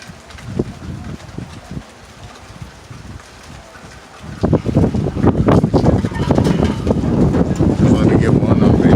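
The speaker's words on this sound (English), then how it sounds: "The wind almost blew me down all of a sudden." Strong wind during a thunderstorm roars across the microphone outdoors, starting as a moderate rumble and swelling into loud, sustained buffeting gusts about halfway through.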